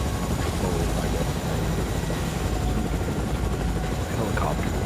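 A helicopter in the video game Fortnite drones in a loud, continuous rotor whir with a low rumble that fills the whole moment, while a player talks over it.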